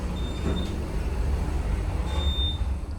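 A modified Schindler 400A machine-room-less traction elevator with a replaced motor running in a parking garage: a steady low rumbling drone with faint whining tones, continuous and fairly close, no talking.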